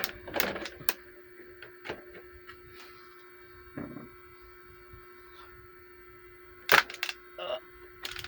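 Ratcheting hip joints of a Transformers Earthrise Titan Class Scorponok toy being moved: a few sharp, separate clicks spread through a quiet room, with a brief louder burst of clicking near the end.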